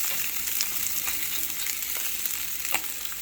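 Eggs and salmon frying in a cast iron pan give a close, steady crackling sizzle with small pops throughout, no talk.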